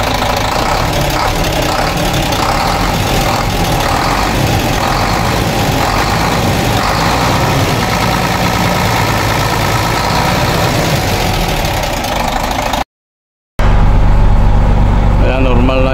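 A Weichai WP12 diesel engine in a Shacman 380 truck idles steadily with a dense, continuous low rumble, running nearly the whole time under talk before a brief cutout and a short resumption.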